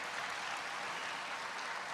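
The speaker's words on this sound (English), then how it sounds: "I guess that was what that big applause was" Sustained audience applause fills a hall at a presidential event on protecting seniors, a dense, steady wash of many hands clapping at moderate distance with no voices on top.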